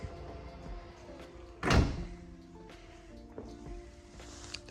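An electric tailgate on a Range Rover Evoque Autobiography P300e moves with a quiet motor whir and a brief soft thud partway through, heard close and alone.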